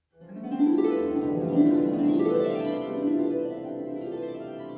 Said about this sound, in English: a characteristic sound on the harp, which is the glissando